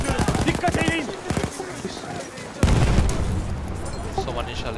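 Battlefield 1 combat: someone talks early on over scattered shots, then a heavy bomb blast booms in at the midpoint and leaves a long rumbling wash of battle noise with continuing gunfire.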